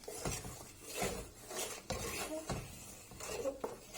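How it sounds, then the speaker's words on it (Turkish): A spoon stirs salt into a tarhana mixture in a metal pot, with repeated scraping clinks against the pot at an uneven rhythm, close and quiet, no talking. "Şöyle biraz karıştırıyorum."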